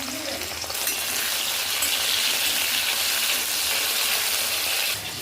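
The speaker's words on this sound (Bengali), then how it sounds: "হালকা করে ভেজে নেব" Mushrooms lightly frying in hot white oil in a wok, a dense bright sizzle that surges right after they go in and holds steady and loud for several seconds.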